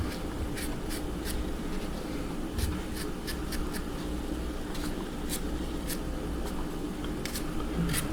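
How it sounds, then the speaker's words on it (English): A paring knife peeling a one-inch piece of ginger makes quick, dry scraping strokes in irregular bursts over a low steady background hum, close and fairly quiet. "we're gonna peel now the 1 inch of ginger"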